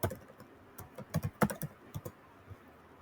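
Irregular clusters of close, crisp keystrokes on a computer keyboard while a number is entered into a website form, with no talking.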